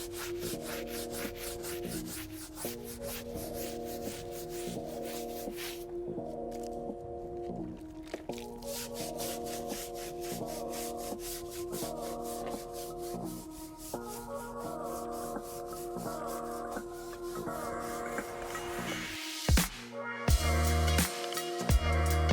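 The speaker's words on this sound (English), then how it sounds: "now that we're done scrubbing the tire and cleaning the wheel" A stiff bristle brush scrubs a car tire and chrome wheel, giving steady, rhythmic rubbing strokes up close that run without pause over a background hum, with a few louder knocks near the end.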